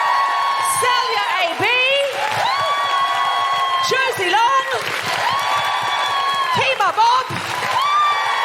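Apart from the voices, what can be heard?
audience applause and cheering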